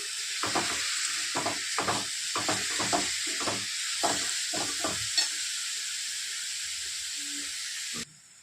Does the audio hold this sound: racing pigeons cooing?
no